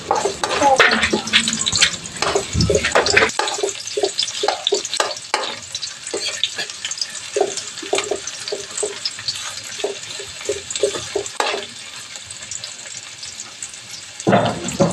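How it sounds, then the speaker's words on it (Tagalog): Garlic and then onion sauté in hot oil, a crackling sizzle broken by scraping stirs. The sizzle eases into intermittent clatter and light splashing, with a brief burst of running water near the end. "Pag mainit na po, igisa na natin yung bawang."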